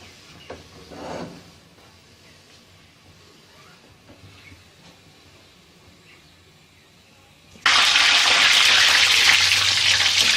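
Oil heating in a pan for frying khaja: a low, quiet hum with small clicks, then an abrupt, loud, steady sizzling hiss that fills the last few seconds.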